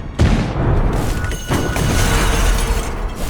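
A bomb detonates in the video game Black Beacon, a loud booming blast followed by a second rumbling burst and sustained crashing debris noise throughout.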